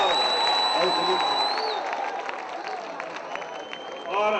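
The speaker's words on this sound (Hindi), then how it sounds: "जोरदार तालियां बजा के स्वागत करते हैं" A crowd at an event gives loud applause to welcome a guest, a dense, continuous wash of clapping with some cheering and tonal whistles, steady throughout and swelling again at the end.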